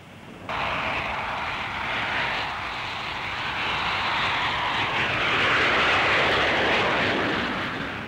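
Hawker Hunter jet aircraft in flight, a steady broad roar that starts abruptly and holds loud and sustained, swelling slightly toward the end, with no voices over it.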